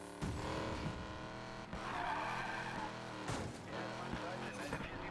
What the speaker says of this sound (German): Ich glaube, es ist ein Drift-Auto.